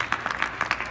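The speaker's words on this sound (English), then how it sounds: "Can I please get a round of applause for the whole Area team" An audience at a bioscience development quarterly event claps for the organizing team, a dense, steady burst of applause with sharp, overlapping hand claps throughout.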